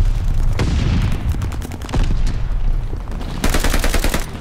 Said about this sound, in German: Werfe Granate!